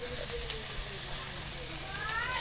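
Spices fry in hot oil in a pan while a pabda fish curry is cooked, giving a steady, close sizzle and hiss that runs the whole time with small crackling pops.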